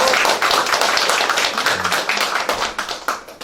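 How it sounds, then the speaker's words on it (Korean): Scattered audience clapping at a ward council member's legislative report meeting in Incheon's Seo district, greeting introduced guests with brisk, uneven claps that stay close and fairly loud. "여러분 큰 박수 부탁드리겠습니다."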